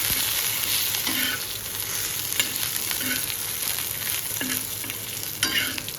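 Cumin seeds roast in a hot pan for a green chilli and tomato thecha, giving a steady close dry sizzle with soft scraping stirs and a few louder spoon knocks, with no voices.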